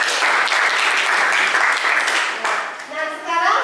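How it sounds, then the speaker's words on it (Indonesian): Students in a school classroom guidance lesson applaud group 4, a dense steady clatter of many hands that eases near the end as a voice begins talking over it. "tepuk tangan untuk kelompok 4"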